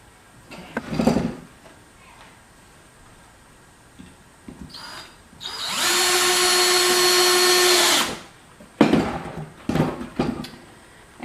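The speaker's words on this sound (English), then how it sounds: "Let me double check before I drill it down." Power drill driving a screw into the wooden top of a rustic wooden lantern, one steady loud whir of about two seconds, with quieter handling knocks and clatter before and after.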